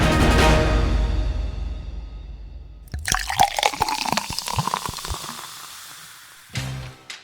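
Water is poured into a glass in a quick gurgling run, close and fairly loud, ending with a brief final splash.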